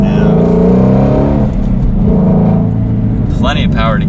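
A Shelby GT350 Mustang engine drones loudly and steadily from inside the car as it accelerates out of a turn, with the revs shifting, and people talking over the engine noise.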